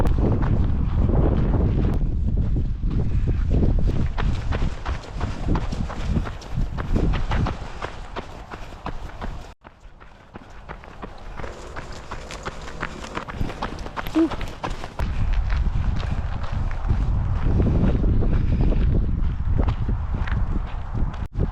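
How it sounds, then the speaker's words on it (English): Strong wind buffets the microphone with loud rumbling gusts during a trail race in Greenland, easing briefly in the middle, alongside a runner's footsteps and heavy movement. "So really windy also."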